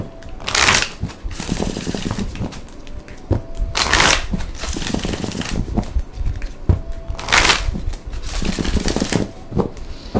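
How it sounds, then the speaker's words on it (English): Psychic Tarot and Oracle deck cards being shuffled by hand in repeated riffling bursts about every one to two seconds, close and crisp, with soft handling noises between them. "This right here is the Psychic Tarot and Oracle cards by John Holland."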